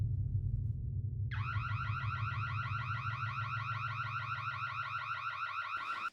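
A house alarm blares a loud, rapid warbling electronic siren that starts abruptly after a low hum and keeps cycling without a break before cutting off at the end.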